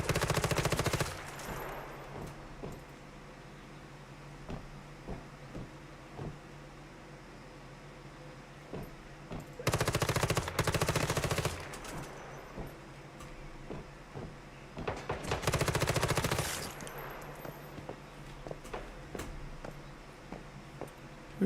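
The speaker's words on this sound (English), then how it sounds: "Who's shooting?" Gunfire in the survival game Once Human comes in three heavy automatic bursts, each a second or two long. Scattered single shots crack between them over a low, steady background hiss.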